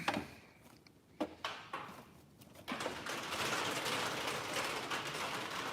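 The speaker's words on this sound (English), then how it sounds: "That noise you hear, that's rain hitting on the roof of my garage." Rain drums on a garage roof, a soft steady patter that swells into a dense continuous hiss after a few faint knocks and clicks, with no talking.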